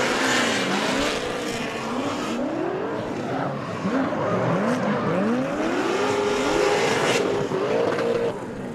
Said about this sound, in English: looks like Tim's back on the throttle